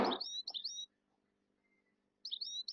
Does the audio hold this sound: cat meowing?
no